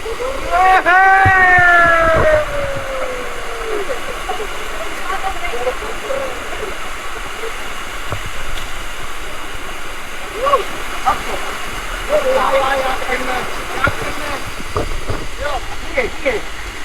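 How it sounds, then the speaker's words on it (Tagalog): Kawasan Falls, a waterfall in Cebu, gives a steady broadband rush of falling water from start to finish, loud and continuous, while voices talk and call out over it at several points. "Kawasan Falls"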